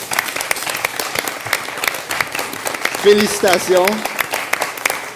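Applause from a debate audience for the winning team, dense steady clapping throughout with a voice speaking over it near the end.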